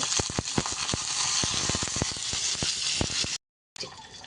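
Ginger, curry leaves, garlic and coriander frying in a pan, giving a steady close sizzle with a scatter of sharp pops and crackles, broken by a brief silent gap near the end.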